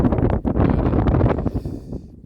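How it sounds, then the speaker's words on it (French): Strong wind buffets a microphone outdoors by a vegetable garden in January, loud rumbling gusts that pulse unevenly and ease toward the end, with no speech. "je me suis mis dans la voiture parce que ce vent est vraiment prenant"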